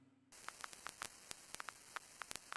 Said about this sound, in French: Ça nous rajoute du grain vinyle.